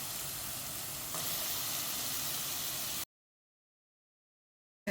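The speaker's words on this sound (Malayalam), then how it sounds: "നമ്മുടെ കഴുകി വൃത്തിയാക്കി വെച്ചിരിക്കുന്ന നമ്മുടെ പ്രോൺസ് ഉണ്ടല്ലോ, അതങ്ങോട്ടിടാം" Washed prawns hit a pan of sautéed onions and sizzle with a steady loud hiss for about three seconds, then cut to silence.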